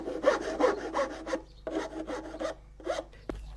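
A rasp works the exterior of a wooden rubble instrument being smoothed by hand, giving repeated rough scraping strokes in a steady back-and-forth rhythm, close and fairly loud, with brief pauses between bursts.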